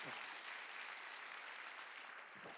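A church congregation at a Wednesday worship service bursts into dense, sustained applause, loud and steady throughout with no break.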